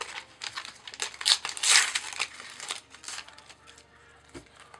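A foil packet of UEFA Champions League 2016-17 football stickers is torn open close up, giving bursts of sharp crinkling and crackling that peak midway, then thin out to scattered rustles.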